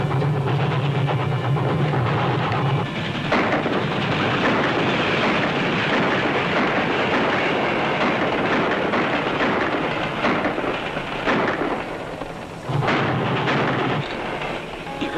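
A train rumbles past on the tracks in a 1941 film, a loud, continuous roar with rattling and clatter that swells and dips slightly.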